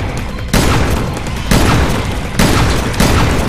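Explosions in the video game Resident Evil Revelations 2, loud booming blasts hitting three times at irregular intervals, each one followed by a sustained rumbling noise.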